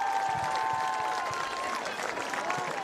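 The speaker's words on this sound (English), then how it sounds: "How about a round of applause for all our cheer and dance teams performing tonight?" A stadium crowd at a Del Oro varsity football game applauds the cheer and dance teams, a sustained wash of clapping and cheering with voices mixed through the noise.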